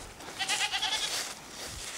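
A single goat bleats on a farm at feeding time, one wavering, nasal cry lasting about a second, fairly close, with quiet outdoor background.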